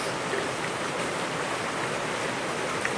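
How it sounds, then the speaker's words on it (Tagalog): Rain falls hard and steady outdoors, a dense continuous hiss with no breaks and no voices. "Ayan, babalik na naman yung ulan. Oh. Medyo lakas-lakas na naman."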